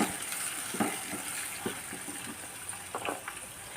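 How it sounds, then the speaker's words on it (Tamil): Tomato, garlic and ginger paste sautés quietly in oil in a pan, a faint steady sizzle with a few soft scraping and tapping stirs. "இப்போ இதை கொஞ்சம் நல்லா எண்ணெயில் வதக்கி விட்டுக்குருவோம்."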